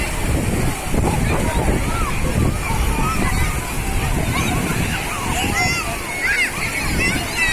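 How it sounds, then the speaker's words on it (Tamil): Large sea waves surge and break on Velankanni beach in a steady, close roar of rushing, sloshing water, with crowd voices talking over it throughout. "அலை நல்லா நல்லா பெரிய பெரிய அலையா வருது."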